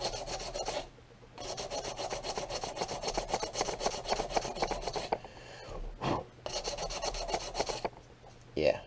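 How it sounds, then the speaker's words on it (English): Hand sanding a patch on a barrel with 150 grit sandpaper: steady, close rhythmic rasping strokes running almost continuously, with a few brief pauses and a short knock near the end. "here I got some 150 grit sandpaper"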